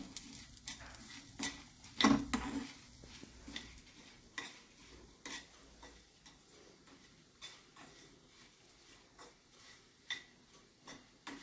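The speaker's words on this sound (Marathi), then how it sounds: "थोडंसं परतून घेते मी हे उडीद डाळ आणि मेथी" Urad dal and fenugreek seeds are sautéed in a pan, a faint, close sizzle broken by light scraping and ticking taps of the spoon throughout.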